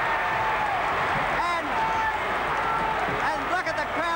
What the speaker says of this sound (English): And look at the crowd go mad.